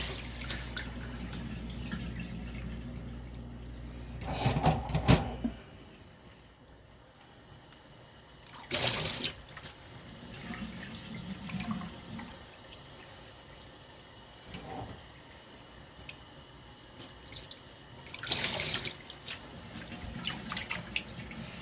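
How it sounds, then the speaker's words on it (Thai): Tap water keeps running while rice noodles are blanched, a steady trickle and drip into a sink broken by a few louder splashing surges. "แต่น้ำเราไม่ต้องปิดนะให้มันระบายความร้อนออกไปในตัว"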